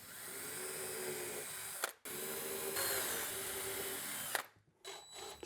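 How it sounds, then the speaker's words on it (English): A power drill bores pilot holes for window latch screws on a panel, two close, steady high whining runs separated by a brief stop, and then a short final burst that winds down. "I'm going to drill some pilot holes."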